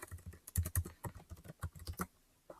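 Rapid, uneven keystrokes on a computer keyboard, close and fairly crisp, a quick burst of typing with no voices.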